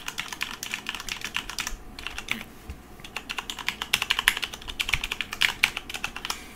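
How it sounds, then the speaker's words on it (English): Rapid, close typing on a Corsair K70 RGB mechanical keyboard, loud clacky keystrokes in an uneven stream, pausing briefly before picking up again. "They were not as quiet as I thought it'd be, actually, when I started typing stuff."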